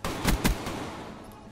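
Two loud, close shotgun blasts in Call of Duty Black Ops 3 multiplayer fire in quick succession, each a sharp boom followed by a decaying rumble, with no talk.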